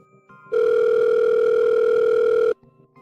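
A single long, steady electronic ringback tone from a Facebook call sounds for about two seconds, loud and close, with faint soft tones before and after.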